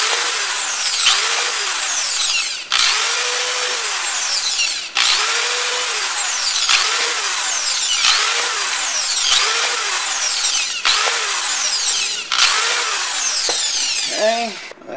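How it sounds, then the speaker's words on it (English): A hammer drill with a 1/8 inch bit whines in repeated bursts, each run a few seconds long with brief pauses between, loud and close, ending with a quick rising spin-down. "I'm going to use a hammer drill on this."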